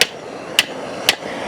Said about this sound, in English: So just trying to hammer this nice and straight